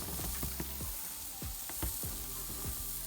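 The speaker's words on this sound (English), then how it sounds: "the ribs have been cooking for a while on the barbecue. So they're nice and cooked, and the grill is nice and hot." Cooked BBQ ribs sizzle steadily on a hot barbecue grill, a continuous close hiss and crackle with scattered pops, at a moderate level and with no talk.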